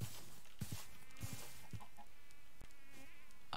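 Chickens in the video game Minecraft give a few faint, short clucks at irregular intervals over a low, steady background hum.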